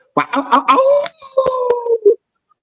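A man imitates a dog, starting with choppy barking yelps and then drawing out a long wavering howl with sharp breaks, loud and close against otherwise silent surroundings.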